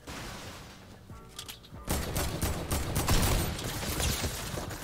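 Turret gunfire in a mobile shooter game, a dense continuous rattle of shots that swells loud after a quieter start with scattered fire and mechanical game sounds.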